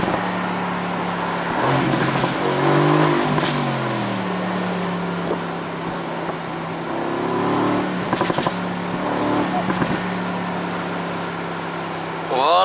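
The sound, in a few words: Mercedes-AMG GT C Roadster 2017 engine accelerating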